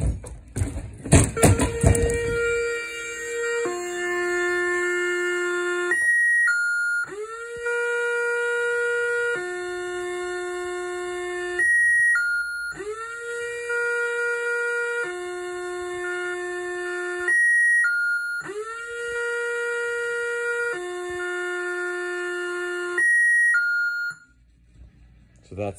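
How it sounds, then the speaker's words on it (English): A quarter coin pusher machine's tilt alarm sounds loudly after a few clattering knocks, cycling through repeated electronic siren-like wails with short rising beeps between them, looping for about twenty seconds before cutting off. "So that's the alarm."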